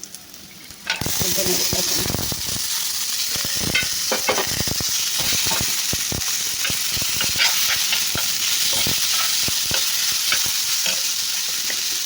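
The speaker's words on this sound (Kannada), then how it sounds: "ಈರುಳ್ಳಿ ಮೆಣಸಿನ್ಕಾಯಿ ಕರಿಬೇವು ಸಾಸಿವೆ ಬೆಳ್ಳುಳ್ಳಿ ಫ್ರೈ ಆಗ್ತಾ ಇದೆ" Onion, chilli, curry leaves, mustard seeds and garlic sizzle in hot oil in a pan, a steady loud frying hiss broken by stirring scrapes, heard alone after a brief quiet start.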